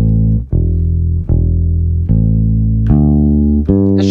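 Bass guitar played with alternating plucking fingers, six loud, sustained low notes in a steady sequence, each clean attack ringing into the next, alone without talk.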